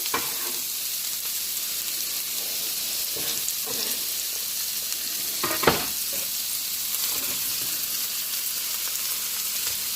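Red peppers and onions sauté in a hot pan with a steady, continuous sizzle and occasional stirring scrapes, close and alone without any talk.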